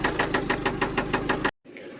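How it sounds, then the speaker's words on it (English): Worn rod bearings knocking inside a car engine, a loud, steady metallic smacking at a quick, even rhythm that cuts off abruptly near the end, leaving only a faint low hum. "the rod, I'm guessing that rod bearings is kind of... That rod's smacking around pretty good."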